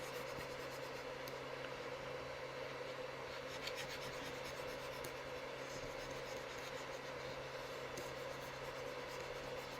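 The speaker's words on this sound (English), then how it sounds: "let me go ahead and erase all of this here" A board with physics notes being erased, a faint, steady rubbing scrape that runs the whole time with slight strokes, quiet and close with no talk.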